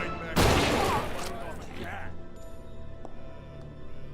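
A burst of gunfire from a gun in the video game Fallen Aces, one sharp loud blast followed by a decaying rumble, with a voice talking over it.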